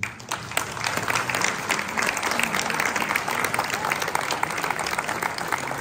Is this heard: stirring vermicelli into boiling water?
no